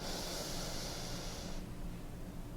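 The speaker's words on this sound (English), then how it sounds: "And one more time, breathing in through your nose." One slow, audible inhale through the nose hisses steadily for about a second and a half in a guided breathing session, then drops away to a quiet background.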